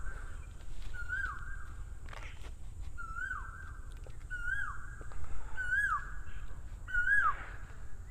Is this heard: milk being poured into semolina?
no